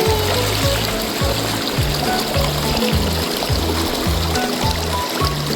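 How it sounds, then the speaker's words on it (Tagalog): Spring water flows and trickles continuously nearby at Coto Mines, Masinloc, Zambales, a steady bubbling rush with a faint repeating mechanical thump underneath. "Ayan, may na-discover kaming bukal."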